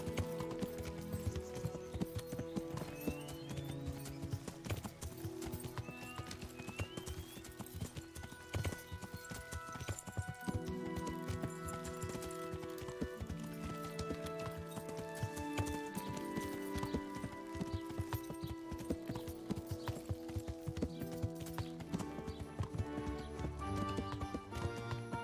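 Horse hooves clip-clop in a steady rhythm in the medieval video game Kingdom Come: Deliverance, a continuous trotting gait heard under game music that runs the whole time.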